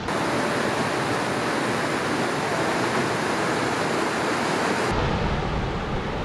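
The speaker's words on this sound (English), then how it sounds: "I cannot believe how many waterfalls there are." A waterfall on Cascade Creek Trail in the Indian Peaks: loud, continuous roaring rush of falling water, close and steady, with a slight shift in tone near the end and no voices.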